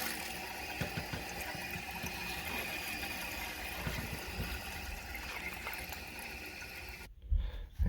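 Water rushes steadily into a toilet tank during a slow refill, a continuous hissing wash of liquid that ends abruptly with a couple of clunks as the valve shuts off.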